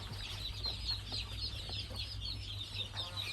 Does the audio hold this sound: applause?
no